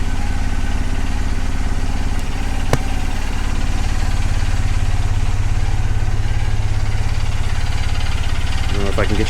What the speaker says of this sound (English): there's the output shaft just spinning away with nothing on it